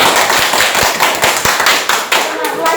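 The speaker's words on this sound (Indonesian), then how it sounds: "Kasih tepuk tangan." Applause fills a classroom during a lesson, with many hands clapping quickly, loud and close, in a dense crackling patter that continues throughout.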